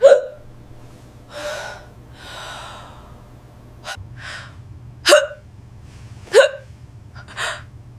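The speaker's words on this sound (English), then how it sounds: "Unexplained, intractable hiccups." Intractable hiccups linked to stroke warning signs: a series of sharp, abrupt hiccups, about five over eight seconds, each a short jolt with a gasping intake, close and fairly loud over a low steady hum, with breathy exhales between some.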